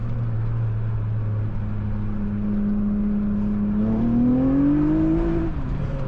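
A 2004 Honda Accord V6 coupe with a six-speed manual hums steadily at idle, then revs up as it pulls away, the pitch rising smoothly before settling, fairly close.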